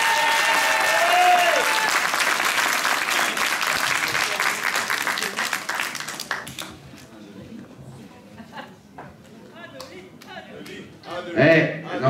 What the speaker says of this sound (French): ça s'applaudit. Plus fort, s'il vous plaît.